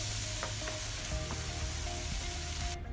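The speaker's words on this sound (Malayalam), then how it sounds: "ഈ മസാലപ്പൊടി ചേർക്കുമ്പോൾ വളരെ ലോ ഫ്ലെയിമിലിട്ടിട്ടാണ് നമ്മൾ ഇവിടെ വഴറ്റുന്നത്" Mussels sautéing with masala powder in a pan over a low flame, Kerala-style fry, giving a steady close sizzle with occasional stirring scrapes throughout.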